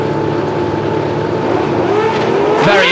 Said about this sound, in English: The revs are up on these beautiful V12 machines.